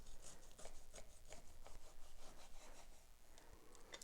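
A knife saws through the firm crust of a sourdough walnut loaf in quick, rhythmic back-and-forth strokes, with a dry scraping, crackling texture, close and steady.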